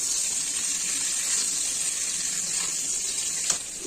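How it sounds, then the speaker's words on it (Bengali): A bowl is rinsed out under running water in a home kitchen, a steady hissing stream up close with a faint clink near the end. "বাটিটা ধুয়ে দিয়ে দিলাম।"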